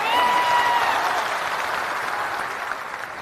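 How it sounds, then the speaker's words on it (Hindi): An audience in a hall greets guests with loud, sustained applause, a dense wash of clapping that fades slightly over a few seconds. "एक बार जोरदार ताली से इनका स्वागत कीजिए।"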